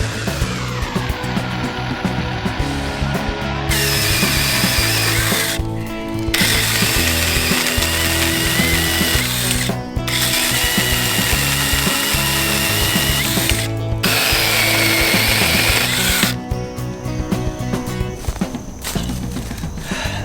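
A Sainlogic 6-inch mini electric chainsaw, battery-powered, cuts through wood in several sustained bursts of loud, steady motor whine and buzzing chain, with brief pauses between cuts.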